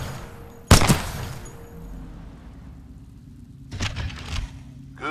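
Titanfall 2 weapon fire on a training range, two separate sharp shot bursts, the first near the start and the second a few seconds later, each loud and close with a brief echoing tail over a low ambient hum.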